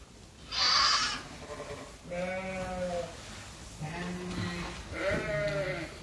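Pygmy goats on a farm give four separate bleats, the first short and shrill and the last three longer and lower, each nearby and clear, with pauses between them.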